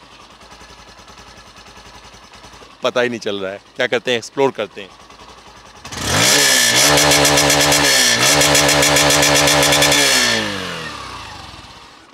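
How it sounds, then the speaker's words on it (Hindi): A Hero Super Splendor Xtec 125cc motorcycle engine revs loudly and steadily for several seconds, then drops back, after brief speech at the start. "आइडल कंडीशन में कुछ इस तरीके से आवाज़ रहेगी मतलब बहुत ज़्यादा शांत हो गई है बाइक"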